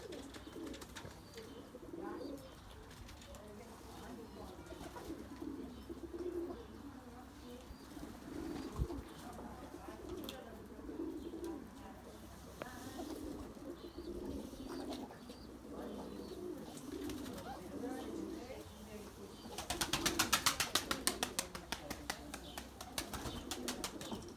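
Soft, repeated coos from Erzurum White breeding pigeons in a coop murmur throughout at close range, layered over each other, with a brief burst of rustling and flapping near the end.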